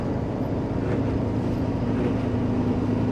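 Citroën LN small car cruising at 60 km/h in fourth gear, heard from inside the cabin as a loud, steady engine drone with rumbling road noise, no talking.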